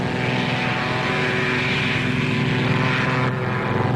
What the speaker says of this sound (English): he just cranked up his airplane and took off.